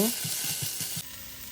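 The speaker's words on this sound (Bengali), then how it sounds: "আদা রসুন দিয়েও আমি একটু ভালোভাবে ভেজে নিব" Onions with ginger-garlic paste fry in a pan with a steady close sizzle and a run of rhythmic stirring scrapes, then the sizzle drops to a softer hiss near the end.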